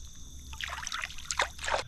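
Small splashes and sloshing as a bass is released back into a creek, a few quick, close water bursts over quiet background, with no talk.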